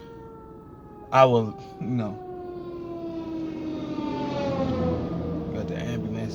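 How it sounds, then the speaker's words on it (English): Emergency sirens from ambulances and fire trucks wail on a Sunday afternoon, a steady rising and falling tone that swells gradually from moderate distance, with brief talk near the start. "got the ambulances and the fire trucks going on a Sunday afternoon"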